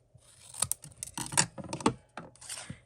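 Paper card stock being trimmed down for a handmade snow globe Christmas card, heard as a close series of short crisp snips and rustles in quick uneven bursts, with no talking.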